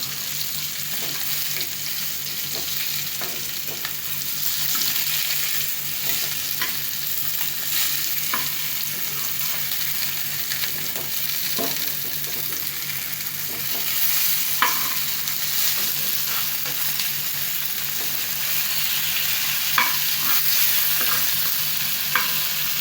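Sankara fish fries in a pan with a steady, close sizzle, broken by occasional small pops and light clinks as it cooks on one side.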